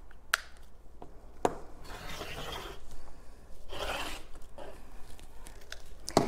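Extra quilt fabric is trimmed from a quilt-as-you-go placemat, giving soft intermittent rasping cuts and rubs separated by brief clicks, close and fairly quiet.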